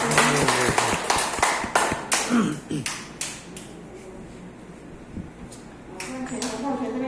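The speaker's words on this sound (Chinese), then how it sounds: "再次热烈掌声感谢大家" Audience applause at the close of a class session: a scattered burst of hand clapping near the start that thins into sparse claps, mixed with voices and room noise, then a brief renewed patter toward the end.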